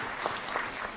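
Applause from an audience at a Women's Day event honouring a policewoman hailed as Delhi's Lady Singham: a dense, steady burst of clapping, fairly loud and continuous through the short moment.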